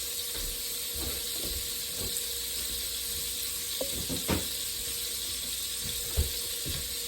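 Fat melts in a hot skillet before scrambled eggs, giving a steady, fairly quiet hiss throughout with a few soft scattered crackles and knocks.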